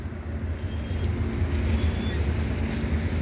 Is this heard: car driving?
yes